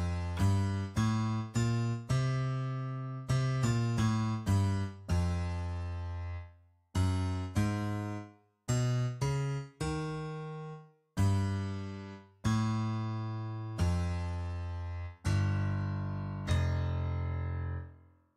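Notes played on the REAPER virtual MIDI keyboard with the center note set to F2: a run of low, buzzy synth tones, some quick and clipped, others held and slowly decaying, played alone with no talking.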